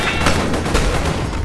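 Rapid gunfire from the VR game Battle Talent, several sharp shots fired close together in a dense burst that crackles steadily across the whole moment, loud and near, with no talking.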